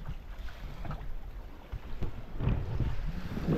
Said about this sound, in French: Le vent se renforce un peu.